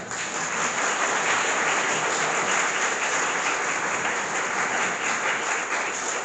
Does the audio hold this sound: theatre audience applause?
yes